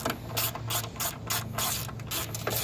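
A ratchet turns a 13 mm socket to tighten a battery bolt on a Grand Prix car. Close, crisp clicking comes in quick repeated bursts with short pauses between strokes.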